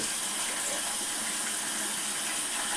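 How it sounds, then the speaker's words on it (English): Tap water runs steadily while a makeup brush is rinsed, a continuous even hiss and gush with no pauses. "So then I'm going to rinse that again so the water's running kind of clear."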